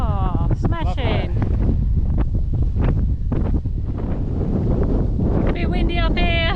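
Strong coastal wind on an elevated spot in Queensland, Australia buffets the microphone with a constant low roar while people talk and exclaim over it.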